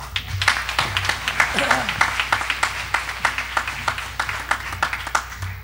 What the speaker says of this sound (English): Y'all give them a hand clap.